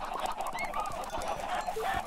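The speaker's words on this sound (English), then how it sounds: "Kill the chickens." Chickens in the Minecraft game Hexxit cluck and squawk in a busy, overlapping flock, heard fairly faintly and without talk.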